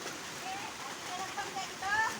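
Steady rainfall hisses on surfaces nearby, a dense wash of sound with faint voices murmuring underneath.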